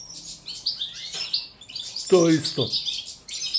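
Female goldfinch (Carduelis balcanica) in a cage gives short, bright chirps and twittering bursts, close and fairly loud, with someone talking briefly over part of the calling.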